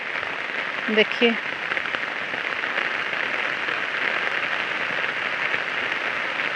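Steady rain falls in Chhingchhip, Mizoram, a dense even hiss that fills the whole stretch, with a voice speaking briefly near the start.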